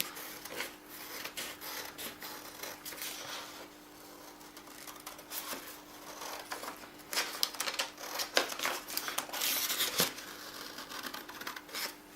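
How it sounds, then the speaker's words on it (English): Scissors snip and rasp through paper while cutting out the outline of a shape, a quiet, close run of irregular crisp cuts and rustles with no speech. "just with a pair of scissors, just going to cut the outside shape"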